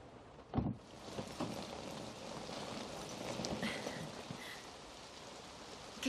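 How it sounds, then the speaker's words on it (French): Steady rain falls outdoors, a soft continuous hiss of drops on surfaces with a few louder knocks near the start, faint and even throughout. "Qu'est-ce qu'il pleut?"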